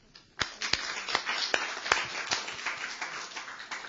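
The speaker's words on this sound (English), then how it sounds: "I would like to ask for a round of applause for our panelists" Scattered clapping from a conference audience for a panel on disaster risk management at a Jeju forum: a few distinct, fairly quiet hand claps that build into a loose, thin patter.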